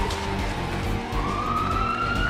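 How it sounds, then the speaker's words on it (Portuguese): An ambulance siren wails loudly with a rising, sustained tone over a busy low background. "É a ambulância, tá viajando"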